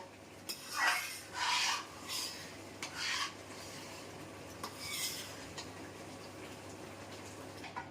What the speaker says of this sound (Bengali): সমানে নাড়া দিতে থাকবো।